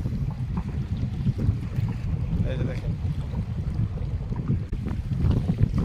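Strong wind and rough waves buffet a fishing boat on the Brahmaputra river, a heavy, constant low rumble of gusts and water slapping with mic wind noise, while someone speaks briefly over it.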